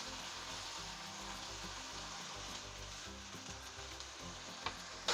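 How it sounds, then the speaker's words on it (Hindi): Chicken cooks in a pan with a tablespoon of soy sauce, giving a soft, continuous sizzle. A brief louder clatter comes near the end, and nobody speaks. "और इसी के साथ हम इसमें डालते हैं 1 टेबलस्पून सोया सॉस और चिकन को हम पकाते हैं चिकन के गलने तक।"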